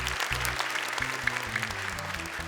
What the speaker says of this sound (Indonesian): tepuk tangan sekali lagi untuk Muslim